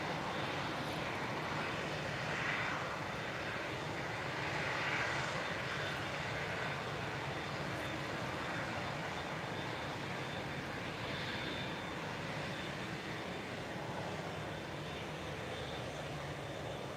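An airplane engine roars during takeoff at Lisbon Airport on a cloudy, windy evening, a steady, broad, distant rumble that holds without a break, with no talk over it.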